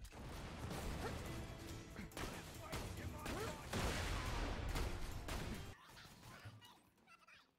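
Grenade blasts and gunfire crashing in Borderlands 2 during a grenade jump over a gate, a dense run of booming explosions and smashing impacts for several seconds before tailing off; loud game mix with faint voice underneath.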